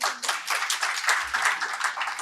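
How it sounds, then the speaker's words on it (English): A conference audience gives a brisk round of applause, dense rapid hand clapping that holds steady and fairly close for a couple of seconds. "That, I think, deserves a round of applause."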